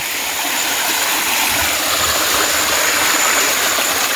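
A small roadside waterfall on the way to Matale, Sri Lanka, gives a loud, steady, close-up rush of falling water that never lets up.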